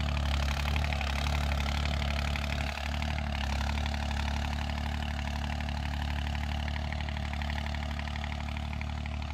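A New Holland 3630 tractor runs during a field demo in a village, a steady, loud low engine drone with a faint rhythmic pulse, close and continuous throughout.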